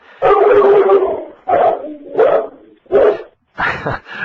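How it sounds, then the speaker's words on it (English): A dog barks repeatedly over an unmuted microphone during an online public transportation policy session, loud and close, in bursts of barks and yips with short pauses between them. "We would ask whoever has the dog to please put their microphone on mute."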